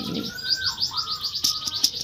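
Bright, rapid canary chirps and trills repeat in quick bursts, fairly close and clear, with a faint low murmur at the start.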